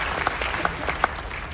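Applause from a gathered audience honoring a respected teacher at a Hindi-speaking event, a steady wash of clapping with a few sharper individual claps standing out.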